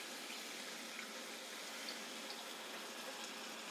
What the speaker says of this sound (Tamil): இந்த புளித்தண்ணியை விட்டுடலாம்.